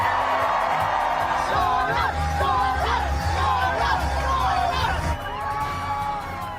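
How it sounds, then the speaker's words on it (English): A large election-night crowd cheers, whoops and yells continuously, loud and close, with excited shouts rising over the sustained roar before it eases slightly near the end. "you guys just scream from the rooftops"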